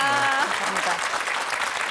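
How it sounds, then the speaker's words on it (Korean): A TV studio audience breaks into steady, dense applause as a voice briefly trails off at the start; the clapping stays loud throughout. "다시 한번 큰 박수 부탁드리겠습니다"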